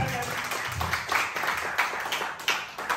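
Audience clapping to welcome parents at a Nepali school gathering: a burst of scattered hand claps in an uneven rhythm, fairly close and steady, mixed with voices talking over it.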